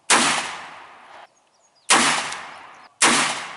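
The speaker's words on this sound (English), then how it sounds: "There's Blake with the 357, shooting 38 special." A .357 revolver fires .38 Special rounds at an outdoor shooting range, three sharp, loud reports about a second apart, each followed by a short fading echo.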